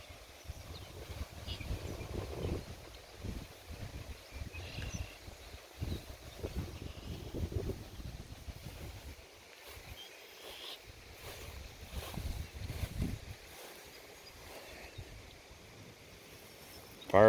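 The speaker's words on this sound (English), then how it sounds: "Didn't take long to go from calm and quiet to windy." Gusty wind blowing outdoors ahead of a small rain storm, rising and falling in low rumbling buffets against the microphone, moderately loud with brief lulls and no other clear sounds.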